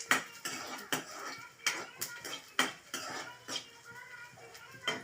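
A pan clatters with repeated metallic scrapes and knocks from a utensil while garlic and dried chillies are sautéed, the sharp hits coming in an uneven rhythm, close and fairly quiet.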